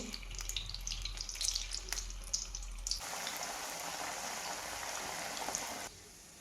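Taro leaf alu vadi slices frying in hot oil: a steady, close hissing sizzle that swells and holds for a few seconds before cutting off abruptly, after softer crackling and clatter.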